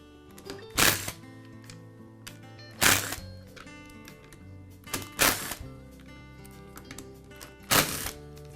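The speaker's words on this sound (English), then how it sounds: "I'll begin by removing one half of the pistol grip handle, starting with these 4 screws." Screws being removed from the pistol grip handle of a Skil circular saw during a switch repair: small scraping and ticking turns broken by four loud clattering thunks spaced about two seconds apart, close up.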